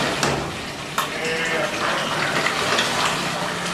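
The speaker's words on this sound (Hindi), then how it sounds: "भुनाई का अमल जारी हो सारी है" Beef stew pieces sautéed in a pan for dopiaza, giving a steady close sizzling hiss throughout with a couple of sharp stirring clicks.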